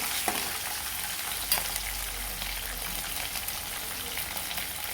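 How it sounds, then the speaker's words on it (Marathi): Green chillies sauté in hot oil for a leftover-bhakri breakfast, making a steady, close hiss of sizzling with a couple of sharper knocks from the pan and light stirring, with no voices. "हिरवी मिरची परतून घ्यायची"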